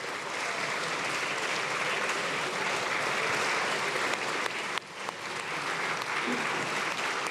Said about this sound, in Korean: 의원들이 악수를 하고 또 박수를 건네면서 이재명 대통령을 환영하고 있고요